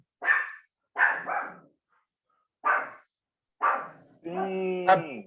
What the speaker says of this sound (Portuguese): Vocês estão escutando muito o cachorro?